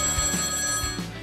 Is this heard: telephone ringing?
yes